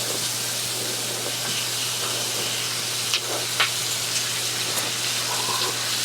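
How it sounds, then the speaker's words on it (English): Butter and onions sizzling in bacon fat in a pan, a steady close hiss running throughout with a few sharper pops and spits rising above it. "Now for the onions, I'll take half a cube of butter and all the onions."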